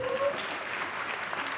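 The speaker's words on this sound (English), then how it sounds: "Round of applause for them, please" A conference audience claps for a panel, a steady patter of applause at moderate level that holds through the short stretch, with a voice briefly audible at the start.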